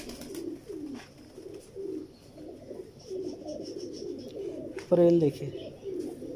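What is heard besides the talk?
pigeons cooing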